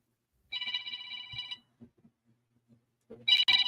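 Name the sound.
phone ringing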